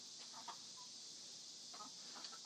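Chickens and a small bantam rooster in a coop, giving a few soft, short clucks spread over a couple of seconds, faint against a steady background hiss.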